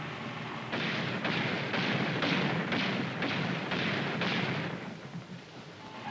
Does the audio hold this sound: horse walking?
no